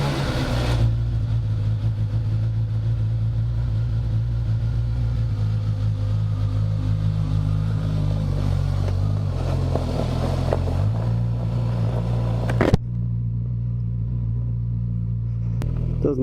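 Suzuki GSX-S1000 motorcycle engine idling on its own, a steady low rumbling throb held close and even for many seconds, with a brief click near the end as the sound thins out.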